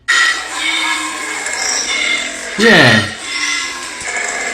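A koala growls in a deep, rasping, buzzy bellow, loud and close and sustained for several seconds. It swells near the end, and a voice speaks briefly.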